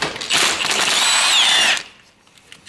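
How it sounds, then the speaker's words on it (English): A cordless battery power tool whirs loudly for over a second while removing an engine mount on a Peugeot/Citroen 1.6 HDI, its motor whining as it works, then stops, leaving quiet background. "Modern battery power tools make short work of jobs like this."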